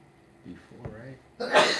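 A single sneeze bursts out near the end, loud and close, right after a bit of speech in a classroom setting.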